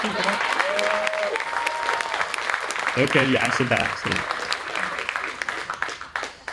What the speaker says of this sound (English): That's your cue for an applause.